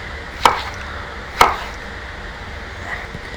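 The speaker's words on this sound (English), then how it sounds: "I'm just going to cut them in large sections" A knife cutting peppers into large sections on a board lands two crisp, sharp chops about a second apart, then a faint third tap, close up over quiet room tone.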